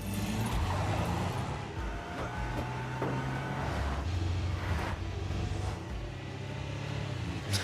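A car drives along with a steady low engine and road rumble inside the cabin, fairly quiet and continuous with occasional faint rattles.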